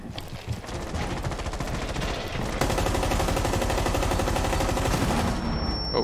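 Rapid automatic gunfire in Rainbow Six Siege, loud close bursts of shots rattling in quick succession, growing denser and louder partway through, with no talk over it.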